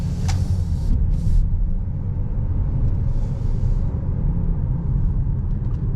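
A 2023 Ford Escape ST-Line Elite pulls away under acceleration, its engine drone and road rumble steady and close throughout, with a couple of brief higher-pitched bursts that may be the turbo whistle.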